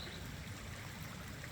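Floodwater in a swollen Kentucky creek rushes past in a steady, broad, close-up wash of flowing water, with no voices.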